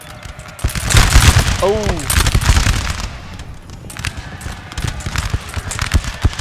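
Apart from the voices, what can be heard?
musket volley gunfire in Napoleon Total War video game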